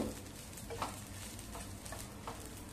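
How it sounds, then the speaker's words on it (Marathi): Green chillies and coriander roasting in oil in a pan, a soft continuous sizzle with faint scraping stirs and light crackles, steady and close throughout. "हे बघा आणखी 2 मिनिटं मी मिरची बरोबर कोथिंबीर सुद्धा भाजून घेतले."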